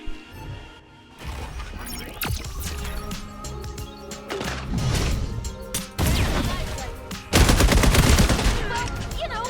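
Gunfire in the shooter game FragPunk: sharp, close shots and rapid bursts of automatic fire, some crashing impacts between them and a dense volley near the end.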